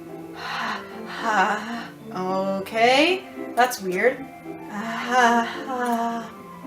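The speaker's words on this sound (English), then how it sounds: "sharp inhale like someone sucking the air through their teeth" A quick, sharp inhale through the teeth cuts in between bits of a man's nearby speech.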